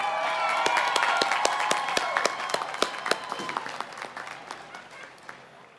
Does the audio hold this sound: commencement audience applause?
yes